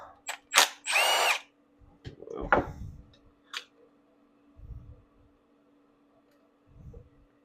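A 14 mm tool removes the float bowl bolts on a Yamaha G1 golf cart carburetor: a few short, loud power-tool whirs, followed by quieter clicks, taps and low rattles.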